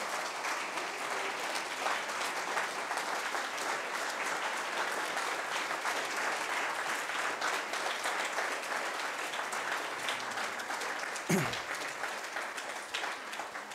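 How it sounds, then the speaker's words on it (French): Long, sustained standing ovation from a seated conference audience, a dense wash of clapping that holds steady throughout with a brief thump near the end. "que je vous prie, s'il vous plaît, d'applaudir debout"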